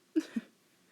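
A woman, unwell and under the weather, clears her throat twice in quick succession, a short rough rasp followed by a smaller second one, close and fairly quiet, with no talk.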